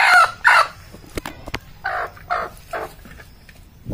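A broody village hen squawks loudly in repeated harsh bursts as she is picked up, close and alone, with a few sharp knocks between the calls.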